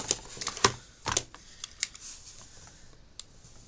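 A craft knife cuts through grey board, giving a few short, close scraping and clicking strokes in quick bursts, then quieter scratches.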